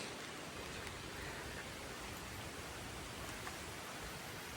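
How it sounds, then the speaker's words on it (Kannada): Rain falling, a dense, uniform hiss of steady downpour that is faint in level and continues without pause, with no talk. "ಮಳೆ ಬರ್ತಾನೆ, ಚಂಡಿ ಆಗ್ತಿದ್ದೀವಿ"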